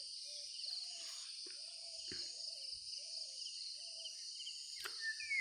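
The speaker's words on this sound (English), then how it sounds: "I can hear the murmuring sounds of the insects" Steady high insect drone fills a dense Saal forest, a continuous shrill hum with repeated mid-pitched bird calls and a sharp chirp near the end, no voices.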